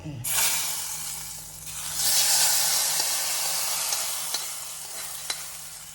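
Green chillies are stirred in a hot frying pan for a vendakka mappas breakfast curry, with a loud sizzling hiss that swells and eases as the spoon moves, and a few sharp scraping taps near the end.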